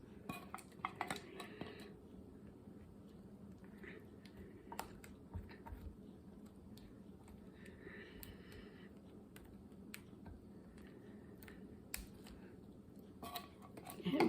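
A spoon scrapes condensed French onion soup from a metal can, making faint, close clinks and scrapes that repeat unevenly over a low background hum.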